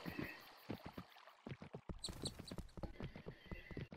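Horse hooves trotting in the video game Kingdom: New Lands, a close, steady clip-clop rhythm of repeated hoofbeats with an occasional whinny, and no talk over it.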